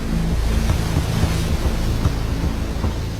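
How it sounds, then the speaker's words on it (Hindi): Loud, steady roar of rushing water where two waterfalls meet in a jungle, a dense continuous wash with no pauses. "यहाँ पर दो झरने मिलने की वजह से ये जगह और भी ज्यादा खतरनाक बन चुकी है।"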